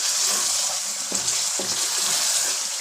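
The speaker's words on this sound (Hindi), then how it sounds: "अच्छी तरह भून लेंगे।" Aloo karahi masala frying in a pan, a steady loud sizzle with a couple of soft stirring scrapes partway through and no talking.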